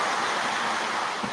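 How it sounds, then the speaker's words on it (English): Heavy rain pours steadily outdoors, a dense, hissing broadband wash with no breaks, loud and close, with no voices over it. "And now it's starting to pour rain over here."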